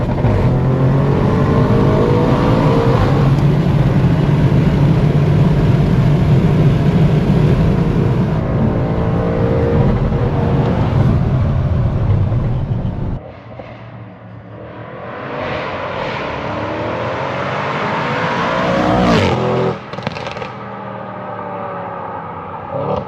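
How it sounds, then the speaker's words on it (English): An Audi RS7 engine, running about 800 hp on methanol, revs hard and loud while accelerating, drops off briefly, then climbs again with a throaty, rising roar. "I love that burpy sound in the RS7"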